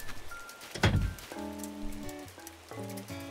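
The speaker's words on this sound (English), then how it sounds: "Is it raining yet? It sounds like it is." Rain pattering in Animal Crossing: New Horizons, a soft steady wash of drops under a gentle melodic tune, with a single dull thunk early on.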